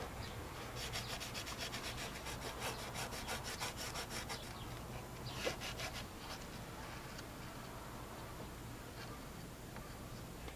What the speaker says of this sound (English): very carefully take some Scotch-Brite and a rag and some brake clean and make sure these surfaces are nice and clean